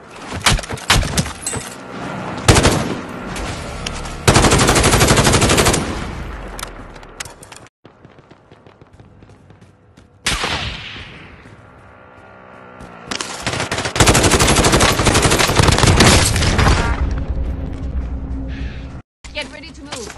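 Loud bursts of automatic machine gun fire in a video game with hostile helicopters, rattling in long volleys broken by a brief lull and a rising whoosh, with game voice lines over the action.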